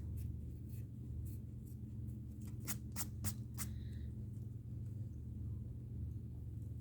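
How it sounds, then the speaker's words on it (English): An eraser rubs out pencil lines on paper in a quiet room: a series of short, scratchy back-and-forth strokes, faint and close, over a low steady hum. "let's go and erase our lines"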